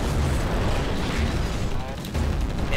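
Rocket blasts boom in the twin-stick shooter Assault Android Cactus, a loud run of overlapping explosions and rumbling impacts with a short lull near the end, while a voice talks over the action.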